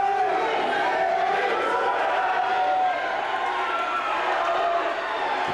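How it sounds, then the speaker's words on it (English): A wrestling crowd shouts and cheers in a continuous noisy roar filling an indoor venue, steady and fairly loud for several seconds. "The crowd wants justice."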